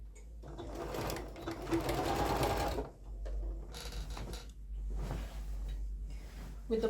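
Domestic sewing machine stitching a checkered quilt border, its motor whirring in steady runs of a few seconds with short pauses between bursts, close and fairly loud, with no talking.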